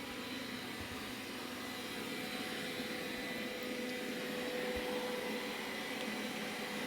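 A Roborock S5 robot vacuum runs on carpet, giving a steady, moderate whir with a faint tonal hum that holds without a break for the whole stretch.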